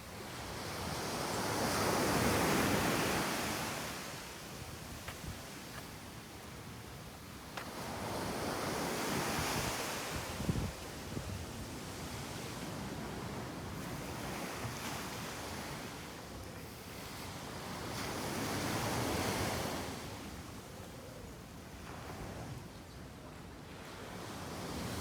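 Surf rolling onto Folkestone Beach on the west coast of Barbados, a steady wash of breaking waves that swells and recedes in slow cycles, with some wind buffeting the microphone and no voices.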